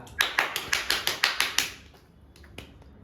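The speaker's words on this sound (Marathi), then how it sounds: "टाळ्या." Rapid burst of hand clapping at a family anniversary surprise at home, about eight sharp claps in steady rhythm, then a few scattered softer claps trailing off.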